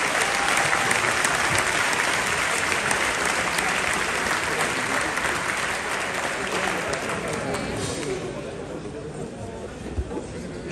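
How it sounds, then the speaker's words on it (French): A crowd at a 2023 event in Dieppe applauds warmly and steadily, dense clapping filling the room before gradually thinning toward the end. "vous remercie de bien vouloir les applaudir."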